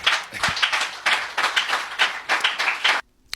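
A church congregation at a Sunday sermon applauding together, a steady run of loud, close rhythmic clapping that stops abruptly after about three seconds.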